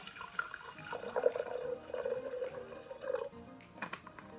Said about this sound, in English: I'm going to take some white vinegar and dump it in.